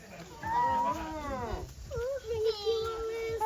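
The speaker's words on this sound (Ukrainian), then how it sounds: "ти ж хотів котика" Small kittens meowing up close in a home at a birthday gathering, a run of high, wavering mewls repeated several times, with children's voices and adult talk mixed in around them.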